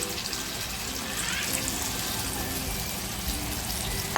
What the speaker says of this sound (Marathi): आता जे मोदकाचा मसाला राहिला होता ना ते थोडंसं पाणी मी याच्यात टाकली आहे